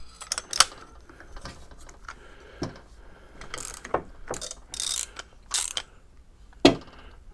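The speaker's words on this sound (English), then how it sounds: "The last piece is to tighten that pain in the ass bolt." A ratchet tightens a bolt on the front forks of a 1987 ZG1000 motorcycle, giving short bursts of close, crisp clicking with brief pauses between strokes.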